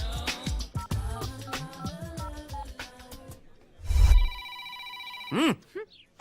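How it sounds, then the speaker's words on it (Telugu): A telephone rings in a Telugu comedy film scene, its steady electronic tone coming in after a stretch of music and a low thump, then breaking off into a brief rising sound. "మోగుతున్న ఫోన్ ఎత్తావు గాని నువ్వు ఎత్తుకో"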